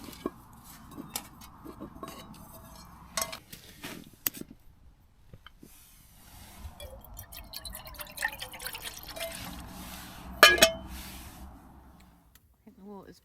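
Water bubbles and ticks in a small metal camping pot, with scattered clinks and a few sharp knocks of utensils against metal.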